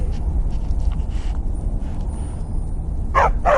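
Two short barks from a dog companion in Skyrim near the end, standing out over a low, steady game ambience with faint footsteps.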